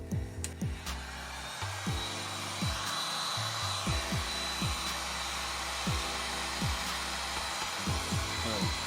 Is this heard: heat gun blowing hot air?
yes